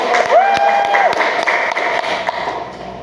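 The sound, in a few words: classroom applause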